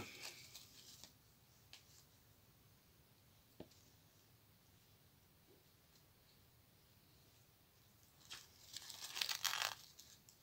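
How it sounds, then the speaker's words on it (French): Paper tears in a few quick, dry rips, building to a louder burst of tearing near the end, with quiet pauses and small ticks between. "Si on entend le papier se déchirer, c'est qu'il n'y a pas d'eau."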